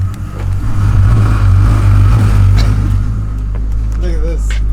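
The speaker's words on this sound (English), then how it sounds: "I can hear the fucking car going." A BMW E30 fitted with an S52 engine runs nearby, giving a steady, loud low rumble throughout, with voices talking over it.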